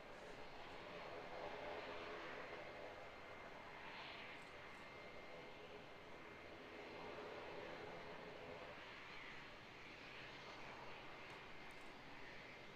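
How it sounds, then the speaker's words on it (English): An ATR turboprop airliner at Auckland Airport in New Zealand, its engine roar steady and moderately distant across the whole stretch, with no talk over it. "Beautiful ATR, eh?"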